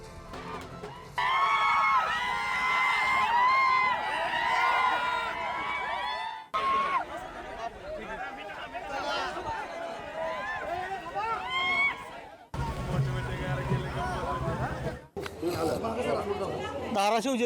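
A family crowd celebrates an election victory in a zilla parishad poll with loud, dense chatter and cheering from many voices nearby. The din continues in several long stretches, broken by brief cuts.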